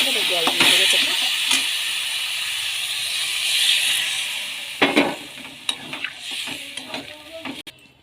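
Water hits a hot pan of sautéed potato, ridge gourd and shrimp, bursting into a bright hiss and sizzle that slowly settles, followed by a few clinks and stirring knocks.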